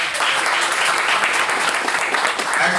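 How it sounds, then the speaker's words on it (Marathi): Loud, dense applause for team Akola at a D.Ed. 2001–2003 batch get-together, many hands clapping continuously at an even level throughout, close and bright with no pauses. "टीम अकोलासाठी एकदा जोरदार टाळ्या."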